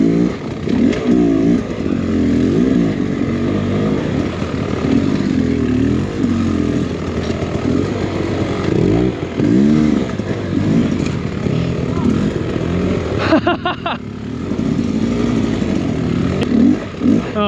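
A Beta X Trainer 300 enduro motorcycle engine revs hard and continuously on rough off-road terrain, close and loud, with the throttle rising and falling and a brief dip near the end.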